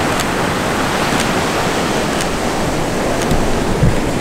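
Ocean waves rolling in with a rising tide on Kauai's Na Pali Coast, a dense, steady roar of surf with wind buffeting the microphone, loud and continuous with no talk.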